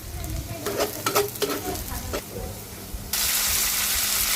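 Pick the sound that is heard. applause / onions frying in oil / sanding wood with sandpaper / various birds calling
onions frying in oil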